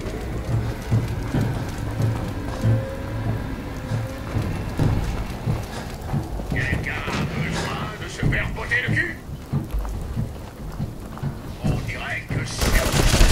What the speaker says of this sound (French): C'est quoi ces robots qui me tirent dessus là?